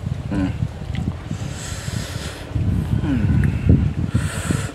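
Gusty wind buffets the microphone in uneven rumbling bursts, growing heavier toward the end, while a voice talks intermittently underneath.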